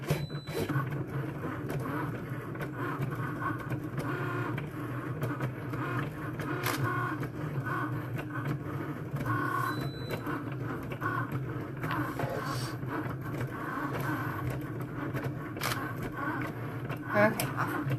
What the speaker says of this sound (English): this is craft board that I'm cutting on the Cricut Maker